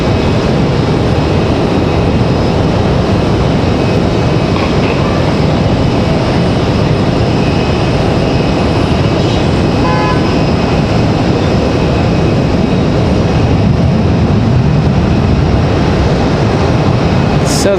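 A United Boeing 737 arriving from Denver at Raleigh-Durham produces a loud, sustained, low-heavy jet roar that holds steady throughout, dense and continuous without any distinct breaks.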